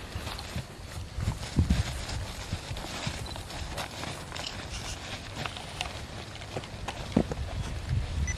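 Hooves of Mojo, a horse ridden by a novice named Jason, clopping in a steady brisk rhythm close by, with light wind and no talk over it.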